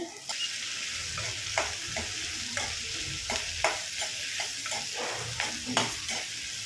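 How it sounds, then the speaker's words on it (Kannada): Onions for onion chutney frying in a pan until brown, a continuous hiss of hot oil with repeated clinks and scrapes of a spoon stirring, close up and with no voices. "ಚೆನ್ನಾಗಿ ಕಂದು ಬಣ್ಣ ಬರೋವರೆಗೂ ಫ್ರೈ ಮಾಡ್ಕೋಬೇಕು ಈರುಳ್ಳಿ ಚಟ್ನಿ"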